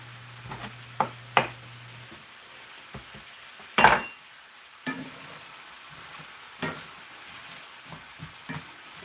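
Apples frying in a pan on a home stove for apple pie give a low background sizzle, with scattered clinks and scrapes of a utensil against the pan and one louder clatter midway.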